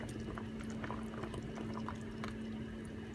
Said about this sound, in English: Now we're just going to add our potatoes into the boiling